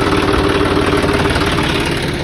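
A large tractor engine idles at a brick kiln, a loud, steady low rumble with a fast even throb and no talk over it.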